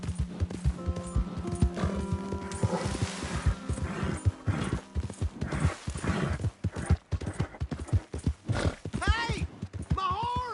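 Steady horse hooves clip-clopping in a brisk rhythm beneath music and a voice, with a horse whinnying near the end.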